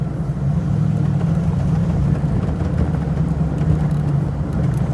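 A Porsche idles and creeps while maneuvering into a parking space, giving a steady low engine rumble close by with no other sounds over it.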